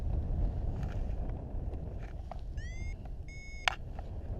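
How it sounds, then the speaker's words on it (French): Strong wind buffets the microphone at a paragliding site in Osmoy with a steady low rumble, while a few short electronic beeps and tones sound briefly partway through. "Vent un petit peu trop fort pour que ce soit très agréable"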